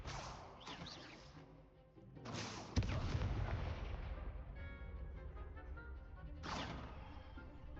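Confringo blasting spell explosions in the video game Hogwarts Legacy: a few sharp booming blasts, with one hard crack midway, each followed by a lingering rumble, fairly loud and close.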